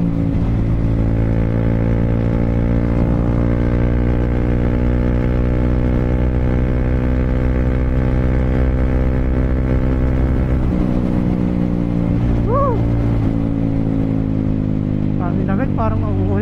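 Triumph Speed 400 motorcycle exhaust idling steadily and loud up close, then blipped with a couple of quick revs near the end, engine rumble continuous throughout.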